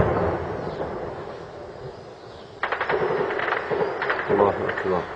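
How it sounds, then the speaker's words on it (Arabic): Artillery shelling strikes the Jib al-Jandali district of Homs in 2012, with distant rumbling booms and sharp crackling bursts breaking out partway through, mixed with people talking nearby. "قصف على جب الجندلي"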